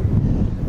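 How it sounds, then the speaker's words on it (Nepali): Strong wind blows across a high hilltop ridge beside a highway, buffeting the microphone in a steady, close, low roar. "यस्तो हावा चलाइरहेको छ"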